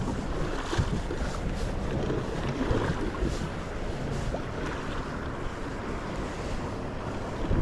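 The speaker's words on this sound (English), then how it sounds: "There's your waves." Lake waves slap against a fishing boat, a close and continuous churn of water with gusty wind buffeting the microphone throughout.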